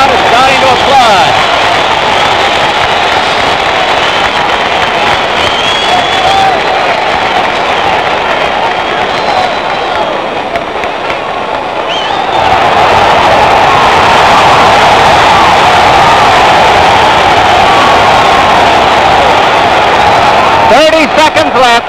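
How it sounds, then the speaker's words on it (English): Crowd at a boxing match applauds as a sustained wash of clapping and murmur, broken by a brief lull midway before swelling again, with a commentator's voice running over the top. "Crowd is starting to applaud."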